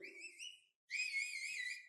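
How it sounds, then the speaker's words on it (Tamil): Loud, shrill whistles from a political rally audience: one wavering whistle, a brief gap, then a longer, brighter burst of several overlapping whistles. "10 ரூபா பாட்டில் என்ன விசில் அடிக்கிறீங்க?"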